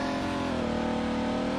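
A BMW 760Li chauffeur car in the Greenville video game drives fast, its engine a loud, steady drone with layered tones that rise slightly as it pulls along, with no voices.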